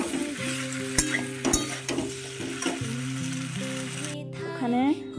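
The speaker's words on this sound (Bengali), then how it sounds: "ফুলকপি আলুগুলো দিয়ে দেব, দিয়ে একটু কষিয়ে নেব। নাড়িয়ে চাড়িয়ে একটু নেবো" Cauliflower and potatoes sizzle and fry in a pan, with steady crackling and scraping stirs throughout, a few sharp utensil clinks, and a brief higher sweeping squeal near the end; no talking.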